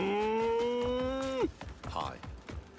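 A voice imitates a cow with one sustained, close moo that lasts about a second and a half and then cuts off, followed by a few scattered words of speech.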